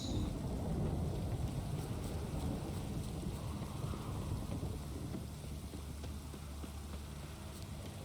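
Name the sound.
rain and thunderstorm in video game Witcher 3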